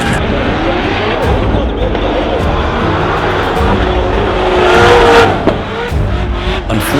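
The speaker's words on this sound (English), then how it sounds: "Unfortunately, Shanahan falls out of drift due to a power loss in his BMW." Drift cars battle at a motorsport event, engines roaring and revving with tyre squeal amid loud, continuous track noise as one BMW loses power; a commentator's voice is mixed in.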